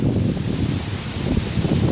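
Steady wind buffets the microphone with a continuous low rumble and rushing noise, unbroken throughout.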